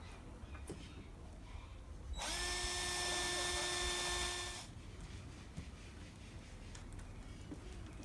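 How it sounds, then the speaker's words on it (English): A power drill whines steadily for about two seconds at a high pitch while drilling a hole for a 16mm bolt in a folding solar panel, then stops, leaving quiet background noise. "This is the last hole I'm going to drill here"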